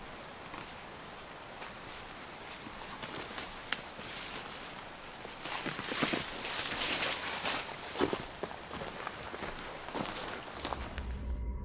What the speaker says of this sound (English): These footsteps were not his, not imagined, heavy, slow, and deliberate.